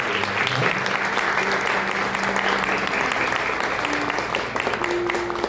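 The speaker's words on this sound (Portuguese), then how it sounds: "Você pode aplaudir, dar uma salva de palmas." Wedding guests applaud at the close of a religious ceremony, a dense, steady wash of clapping that fills the room from start to finish, with faint voices underneath.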